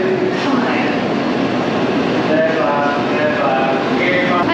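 Shinkansen high-speed train interior, a steady broadband rumble of rolling stock with faint tonal whines and muffled cabin noise, continuous and fairly loud throughout.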